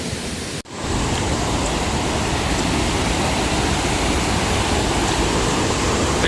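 The Malan river overflowing heavily across a dam, a loud, dense roar of rushing water that breaks off for a split second near the start and then pours on steadily.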